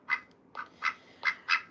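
Five sharp nasal quacks from a pet duck living alongside other birds, near and clear, spaced about a third of a second apart with quiet gaps and no voices.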